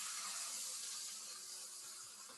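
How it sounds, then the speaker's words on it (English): A steady, faint sizzling hiss of steak searing in a hot pan, continuous throughout with no voices. "you should hear a nice strong sizzle when you put that steak in the pan"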